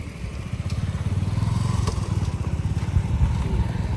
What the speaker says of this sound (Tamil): வரான் பாரு பின்னாடி வண்டி பைக்கு பின்னாடி வரான் பாரு.